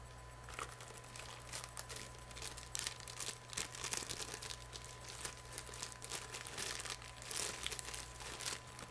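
Plastic wrapping crinkles and crumples continuously, close to the mic, as the cards of a Star Wars Miniatures Revenge of the Sith starter game are unwrapped, with a low steady hum underneath.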